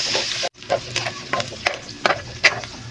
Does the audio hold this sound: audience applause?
no